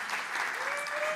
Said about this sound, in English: But yeah, clap it up.